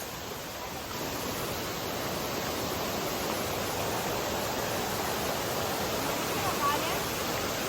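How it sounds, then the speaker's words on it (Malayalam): A steady, even rush of flowing water fills the scene without pause, like a river running close by; no clear voices stand out. "അതിന് താഴെ കൂടെ നല്ല ഒരു അടിപൊളി പുഴ പോകുന്നുണ്ട്"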